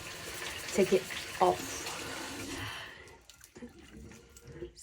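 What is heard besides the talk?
shower water running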